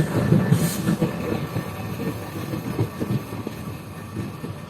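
Rangpur Express power car rolling along the rails, a steady low rumble with faint wheel clatter and occasional squeal, continuous and close throughout.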